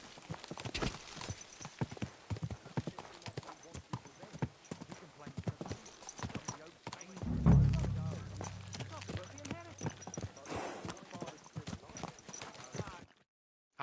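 Horse hooves clip-clop in a steady walking rhythm in the medieval video game Kingdom Come: Deliverance II, close and fairly clear, with a heavier thud midway and voices speaking over the hoofbeats.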